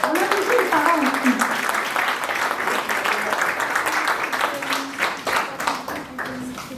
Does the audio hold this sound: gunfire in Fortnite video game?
no